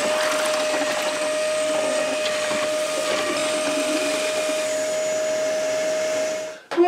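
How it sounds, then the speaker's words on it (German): Quick-set concrete mixture being stirred with a power mixer, a steady loud motor whine with a constant tone and gritty churning underneath, running continuously for several seconds before stopping abruptly. "und rühren das Ganze durch."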